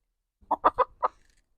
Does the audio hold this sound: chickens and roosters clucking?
yes